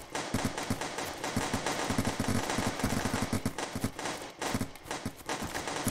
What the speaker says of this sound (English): I like how they keep on firing forever